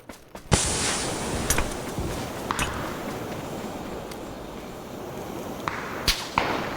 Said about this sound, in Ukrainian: По мені стріляє.